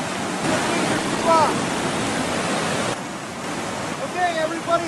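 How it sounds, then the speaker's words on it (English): A waterfall gives off a steady, loud roar of rushing water that fills the whole clip, with a couple of faint, brief higher tones rising over the wash. "We're actually going to jump off this waterfall"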